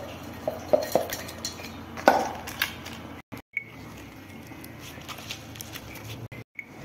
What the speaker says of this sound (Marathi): एक पोळी व बाजरीची भाकर एक या मिक्सरच्या भांड्यामध्ये टाकली